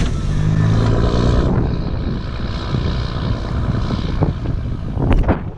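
A Ram truck's Cummins diesel engine running, a rough low rumble with irregular knocks and gusty wind noise, fairly close and steady, swelling near the end.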